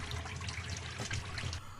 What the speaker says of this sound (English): there's some dirt coming through the line, so I'd let it run for a minute or two just to flush it all out